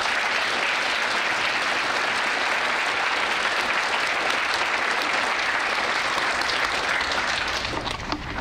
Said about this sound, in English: Let us give Peter a big round of applause.